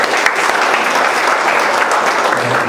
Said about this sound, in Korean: 박수로 환영할게요